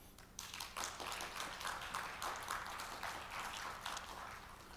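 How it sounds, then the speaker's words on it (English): Audience applause at a defense dialogue in Seoul, steady and moderately faint, a dense patter of clapping hands held for several seconds without talk. "Let us give a big applause to him."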